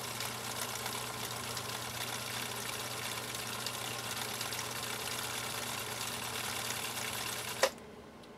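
A Husqvarna Viking Type 2 sewing machine stitches a row with a steady, fast mechanical whir and hum, close up and continuous, then stops abruptly with a click near the end.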